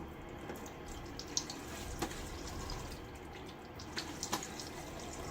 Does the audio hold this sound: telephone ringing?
no